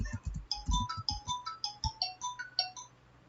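A mobile phone ringtone plays a bright, repeating melodic chime pattern for about three seconds, moderately quiet and close, with soft low thumps from handling in the background before it cuts off.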